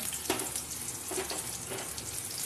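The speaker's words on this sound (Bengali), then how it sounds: "এবার আমি পেঁয়াজটা দিয়ে দেবো" Onion added to hot oil already holding radhuni and dried red chillies, giving a steady, fairly soft sizzle and crackle with a few brief stirring scrapes, close by and without talk.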